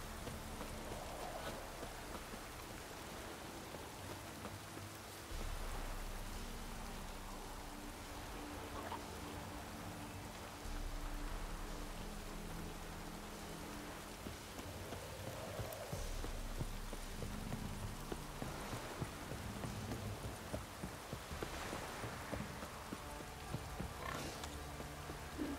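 Steady rainfall in the Velen countryside of The Witcher 3, a dense, even hiss of drops pattering on surfaces with no one speaking, holding at a constant moderate level throughout.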